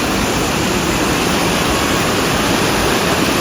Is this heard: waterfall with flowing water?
yes